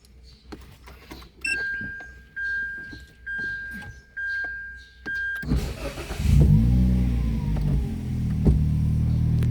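A car fitted with a newly wired RPM meter chimes with repeated electronic beeps and a few clicks, then its engine cranks, catches and revs loudly, settling into a strong, close running roar.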